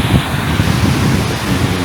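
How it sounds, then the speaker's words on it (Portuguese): Roaring waterfall at a dam in Bom Jesus, a dense continuous rush of falling water mixed with wind buffeting the microphone, loud and steady with no voices. "tem essa cachoeira bonita e é interessante passar por essa barragem aqui"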